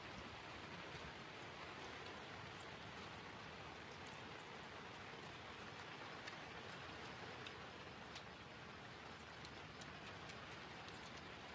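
Steady rain pours down in a dense, even hiss on surfaces nearby, continuous and unbroken with no voices.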